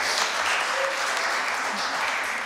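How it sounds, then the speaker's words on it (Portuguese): Applause for a councillor during a public hearing on drug policy, with steady, moderately dense clapping from the room that holds at an even level throughout. "Palmas para o vereador Tobias."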